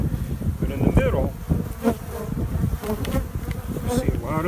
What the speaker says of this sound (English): you see a lot of the bees.